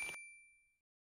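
A single bright bell ding used as a notification sound effect, struck once and ringing clearly before decaying slowly into silence.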